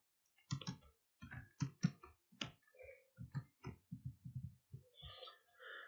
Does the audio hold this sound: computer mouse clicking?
yes